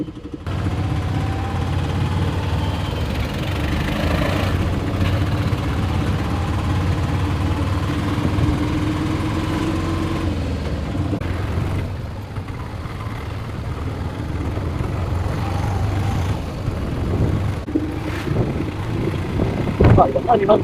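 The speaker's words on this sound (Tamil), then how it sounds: "நம்ம ஆட்டோவிலே போயிடலாம் மக்களே" An auto rickshaw's small engine drones steadily at close range with a low rumble, rising and easing as it rides along, with faint traffic around it.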